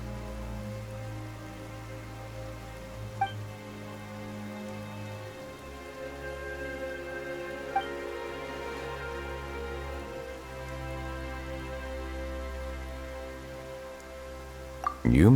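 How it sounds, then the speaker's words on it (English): Steady rain falls in Genshin Impact, a constant even hiss of drops on surfaces that holds level throughout, with a few faint brief taps standing out above it. "Why is it raining all of a sudden?"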